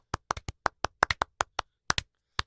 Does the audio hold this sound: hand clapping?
yes